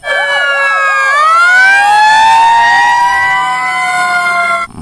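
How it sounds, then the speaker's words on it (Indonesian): Toy fire truck siren sounding loud and close, a wailing electronic tone with overlapping sweeping pitches that runs continuously for several seconds before cutting off abruptly near the end. "ada mobil pemadam kebakaran teman-teman"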